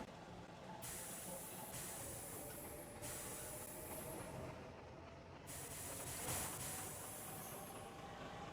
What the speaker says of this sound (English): Now we travel down the single lane track to Ritvie.